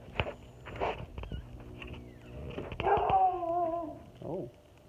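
A dog whimpers and yips close by, with thin whining tones and short barks over soft footsteps around an older frame house.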